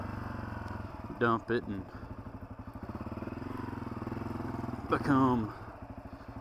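Honda CRF250F dirt bike engine revving and chugging at an easy pace along a single-track trail, loud and close, with a steady thumping exhaust pulse and brief louder bursts while a rider talks over it.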